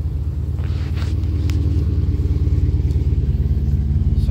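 A 2006 Chrysler 300 SRT8 idling after a cold start outdoors under trees, with a deep, pulsing rumble that grows steadier and louder as it settles.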